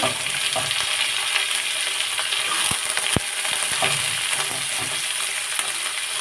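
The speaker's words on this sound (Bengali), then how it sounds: "এখানে আমি প্রথমে ডাটাগুলা ভেজে নেব" Cauliflower stems sizzle and crackle steadily in hot oil in a pan, a dense, continuous frying hiss with a few sharp pops and occasional stirring scrapes, close and loud throughout.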